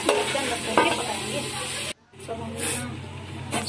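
Chhole masala with tomatoes sizzles and hisses in a pan over a low gas flame, a close, steady crackling fry that cuts out abruptly midway and then resumes more softly.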